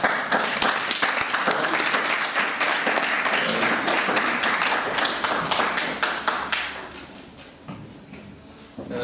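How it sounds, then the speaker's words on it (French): An audience at an evening gala for a nonprofit association in Brussels applauds as a priest is invited to speak. The dense, steady clapping fills the room, then thins and fades out after about six seconds. "Sous vos applaudissements."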